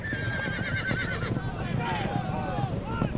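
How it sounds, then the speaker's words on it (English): Horses whinny and neigh over a clatter of hooves in a crowded Mongol army camp in the Age of Empires II video game, with a voice speaking throughout. "There are more men and horses gathered in the camp than I ever knew existed."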